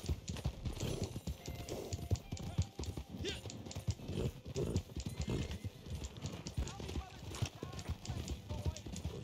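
Horse hooves pound rhythmically in the Red Dead Online video game, a quick galloping clip-clop close by with occasional snorts or whinnies, under a talking player voice.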